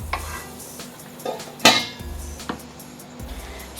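A metal lid clanks onto a pot of simmering Assamese mutton curry in a home kitchen: one sharp, close clink among a few lighter scrapes and taps, with a low steady hum underneath.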